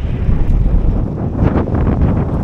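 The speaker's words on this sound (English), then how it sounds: "It is quite windy" Strong storm wind at Swanage, Dorset roars and buffets the microphone in steady low rumbling gusts, loud and continuous throughout.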